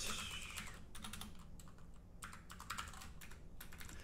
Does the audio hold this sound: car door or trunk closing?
no